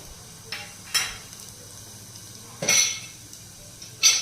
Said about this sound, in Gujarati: પછી મેં નાખી છે લસણની કટકી અને સૂકા લાલ મરચાં